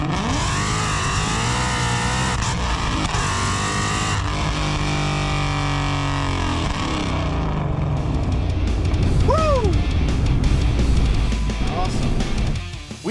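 Supercharged 2016 Ford Mustang Stallion making over 700 hp drives with a dense engine roar and whine that climbs through revs, a voice talking over much of it.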